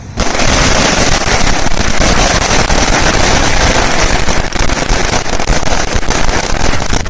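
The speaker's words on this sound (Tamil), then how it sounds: "புதூர் பஸ் நிலையம் அருகே பட்டாசு வெடித்து உற்சாகத்தை கொண்டாடினர்" Firecrackers burst in a loud, dense, unbroken crackle near the Pudur bus stand in Madurai during a street celebration, the rapid pops running nonstop throughout.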